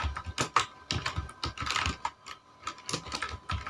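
Rapid, uneven keystrokes on a computer keyboard while HTML code is typed, a close, steady run of light clicks with brief pauses between bursts.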